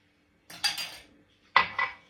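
A utensil stirs cinnamon roll dough ingredients, including yeast and butter, in a bowl, producing two separate pairs of sharp clinking scrapes against the bowl with silence between and no talking.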